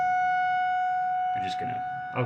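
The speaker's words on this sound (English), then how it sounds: "Every first Monday of the month, they test the sirens." A steady monthly test of an outdoor warning siren wails at a sustained pitch, with a voice breaking in briefly near the end.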